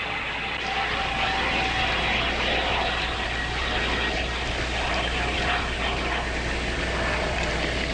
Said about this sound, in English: It's a weird sound. Sort of like an airplane.